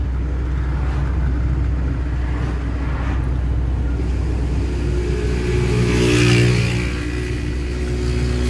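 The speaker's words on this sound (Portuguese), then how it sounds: "Acelera, motoca." A motorcycle engine drones steadily from the rider's position, then swells as it accelerates and falls back to a steady cruise, with wind buffeting throughout.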